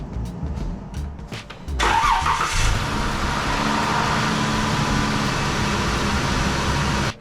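A Dodge Avenger being started after an oil cooler repair: a few ticks and cranking, then the engine catches with a sharp rise and settles into a steady, loud idle close by, with no talking.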